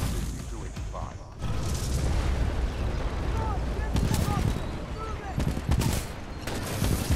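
Dense rapid gunfire from the video game Titanfall 2 during a campaign battle, continuous loud bursts and booms after a brief quieter opening, with talk mixed in.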